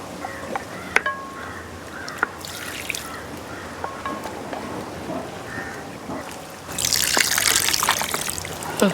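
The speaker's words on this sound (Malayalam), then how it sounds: "അമ്മായി വെള്ളം ഒഴിച്ചോ, നല്ല വെള്ളം." Water trickles and dribbles into a pot of beef being cooked for a Ramadan beef and vegetable dish, a steady close pour that swells to a louder splashing rush near the end.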